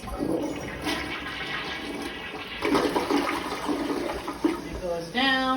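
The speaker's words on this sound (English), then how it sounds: "Flush the toilet." Toilet flushing right after being unclogged with an auger: a loud rushing swirl of water that surges midway, then ends with a gurgling refill as a voice briefly speaks over it.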